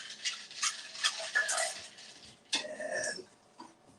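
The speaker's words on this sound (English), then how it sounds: "it's a clear cocktail, so I like to stir" A spoon stirs a clear shochu cocktail in a glass, giving close, light clinking and swirling in uneven bursts with brief pauses.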